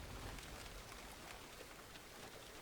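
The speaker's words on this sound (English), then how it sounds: "in the rain." Rain falls steadily in the farming video game Farmer's Dynasty, a dense, even hiss of drops with no pauses.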